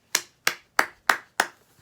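Five crisp hand claps in an even, steady rhythm, close and clear with short silences between them, during a children's action song.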